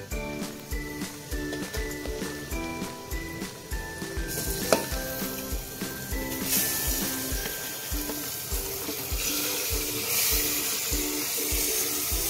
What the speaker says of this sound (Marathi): जे आपण मॅरिनेट केले चिकन आहे ते आपण टाकून घेऊया.